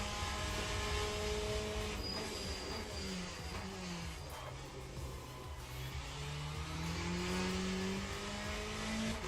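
Race car engine in the Le Mans Ultimate sim racing game, driven on the edge of braking, its pitch sweeping down as the car slows and rising again under acceleration, loud and continuous with no talk.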